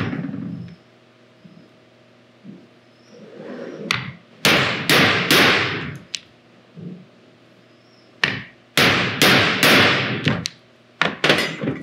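Hand hammer strikes punching holes through a rubber gasket, sharp loud impacts in two bursts of rapid blows separated by quieter tapping and shuffling, close and alone.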